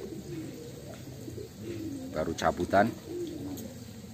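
Young racing pigeons cooing at a loft during morning care, with a couple of soft coos standing out near the middle over a steady background, while a person speaks briefly.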